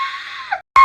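A voice imitates a woman screaming: a loud, sustained high-pitched shriek that breaks off, pauses briefly, then bursts out again, heard alone and close.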